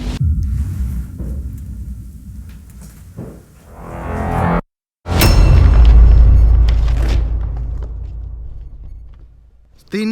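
Fireworks boom outside in the grounds, a series of deep, loud thuds and rumbles with one heavy blast near the middle and rolling echoes after it.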